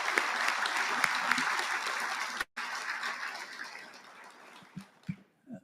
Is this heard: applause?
yes